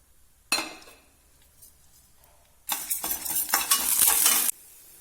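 Urad dal and dried red chillies frying in oil in a pan: a short burst of sizzling and stirring, a lull, then a louder, longer spell of crackling fry and scraping near at hand, with no talk.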